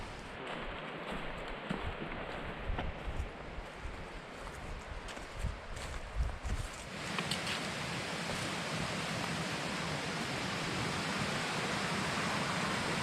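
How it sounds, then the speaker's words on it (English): Deep Creek in the Great Smoky Mountains roars as a steady wash of rushing mountain water, faint and distant at first, then swelling fuller and more constant partway through. "Starting to pick up the roar of Deep Creek down below"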